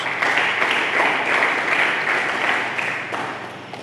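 A church congregation applauds during a Sunday worship service, dense steady clapping from many hands filling the room, loud and continuous before easing slightly at the end.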